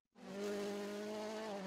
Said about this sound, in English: This is how these engines sound.